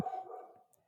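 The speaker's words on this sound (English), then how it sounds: "sorry about the dog." A single short dog bark indoors, a brief close yap that fades quickly to quiet.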